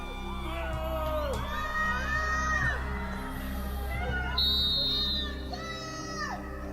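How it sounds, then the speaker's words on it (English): A crowd of Johnny Depp fans outside a Virginia courthouse, shouting and heckling in a loud, continuous clamour of many voices, with sharper yells and whoops breaking out over the din. "Heckling Amber and her witnesses."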